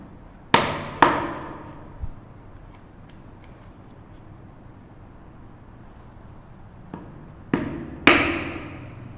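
A chisel struck while chopping dovetails in wood for a tissue box: sharp, close mallet-on-chisel knocks, two early, a faint tap, then a quiet gap before three more blows near the end.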